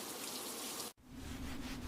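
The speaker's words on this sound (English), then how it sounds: "I take a shower." A running shower gives a steady, broad hiss of falling water, close by, briefly cut off and then resuming with a lower, fuller rush.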